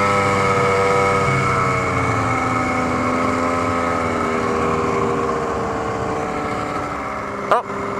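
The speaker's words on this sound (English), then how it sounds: "Oh, snowmobile." Snowmobile engine droning steadily on a sled trail toward Eagle Lake, a sustained harmonic whine holding fairly loud and close throughout, then a brief sharp knock near the end.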